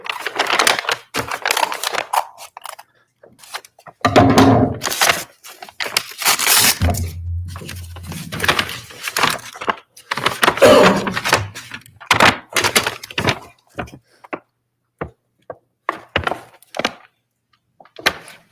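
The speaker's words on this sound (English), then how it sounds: "Oh, it's going to be a lot of crinkling." Paper and plastic crinkle loudly up close as an envelope is cut open in a courtroom, coming in irregular bursts of rustling, tearing and handling noises separated by brief quiet gaps.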